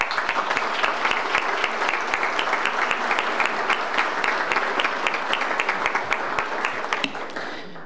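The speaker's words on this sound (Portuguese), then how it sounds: "Eu quero uma salva de palmas para a democracia." Sustained, even applause from an assembly audience at a legislative board's swearing-in ceremony, many hands clapping in a steady wash that holds for several seconds and eases at the end.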